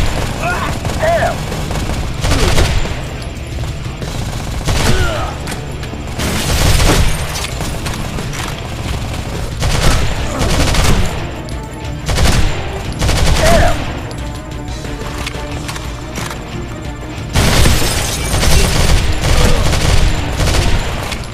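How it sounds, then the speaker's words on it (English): Gunfire in the mobile shooter Modern Combat 3: Fallen Nation: repeated loud bursts of automatic fire and booming impacts arrive in waves over twenty seconds, with shouted voices mixed in. "We're taking fire! Keep your head down!"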